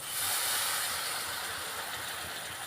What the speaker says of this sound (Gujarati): આમાં છે ને થોડુંક આપણે પાણી નાખવું પડશે.